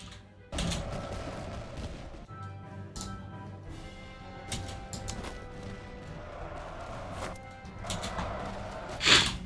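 Grenadier musket volleys crack across a battlefield in a Holy Roman Empire campaign strategy game, with several sharp broadband bursts and a ragged fusillade over rumbling ambience, ending in a louder volley near the end.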